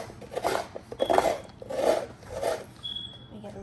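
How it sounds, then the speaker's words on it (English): Fresh coconut meat is scraped downward against a coconut scraper blade in four rhythmic, raspy strokes, each a close, gritty rasp separated by brief pauses. "I'm just going to press the coconut to this blade and scrape downwards, applying pressure"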